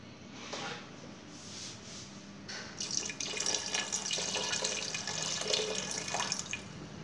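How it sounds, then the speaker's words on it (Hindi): Water poured from a cup into a pot of browning mutton paya (trotters), a steady splashing pour that swells after a few seconds and runs continuously, close and moderately loud. "और 1 कप पानी ऐड करेंगे"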